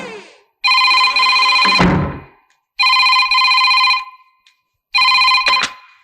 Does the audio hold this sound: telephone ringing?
yes